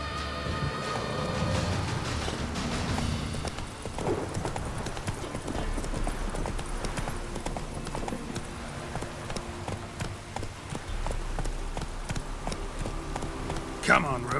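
Roach, a horse in The Witcher 3, trots with steady clip-clopping hooves at close range, layered over a busy game soundtrack with brief talk.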